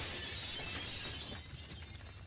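A glass-shatter sound effect plays in the Marvel Legendary randomizer video game, a quiet hissing crash of breaking glass that fades out over about two seconds, with no talking.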